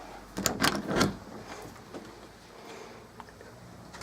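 The washroom door of a 1995 Swift Corniche four-berth touring caravan opens with a quick cluster of light clattering knocks and a rattle, followed by quieter small taps in a still interior.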